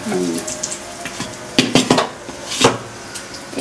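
Dried red chillies and cumin crackle in hot oil in a pan for rohu fish kalia with potatoes, a brief sizzle broken by sharp clatters of a spoon against the pan.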